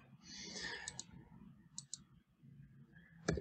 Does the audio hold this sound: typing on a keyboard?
yes